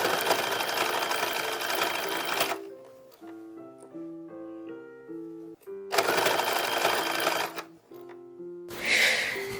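Sewing machine stitching lace trim onto a 1910s-1920s style infant dress, running in two steady buzzing bursts with soft tonal music filling the pauses between them.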